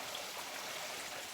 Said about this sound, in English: there's also this lovely little creek here.